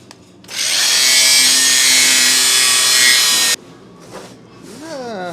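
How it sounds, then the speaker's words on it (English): A loud grinder whirs at a steady high pitch for about three seconds, then cuts off abruptly, leaving quieter car-workshop noise behind during a suspension install. "Just grind it, Nick."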